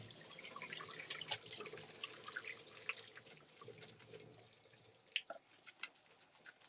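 Hot linguine pasta water is poured from a pot into a kitchen sink, a faint steady splashing rush that thins into scattered drips and trickles.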